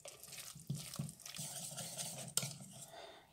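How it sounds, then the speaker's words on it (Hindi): Fish and chips batter is mixed in a bowl, giving soft, quiet stirring and scraping with a few sharper clinks of the utensil against the bowl's side. "तो इन तमाम चीज़ों को मैं अच्छी तरह मिक्स कर लूँगी"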